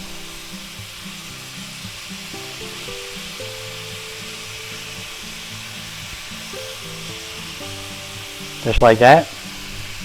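Egg or pasta noodles sizzle in a pan of garlic shrimp and vegetable stir fry, a steady hiss with a brief louder scrape of stirring near the end and a short spoken phrase over it.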